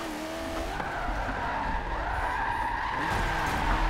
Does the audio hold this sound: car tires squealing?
yes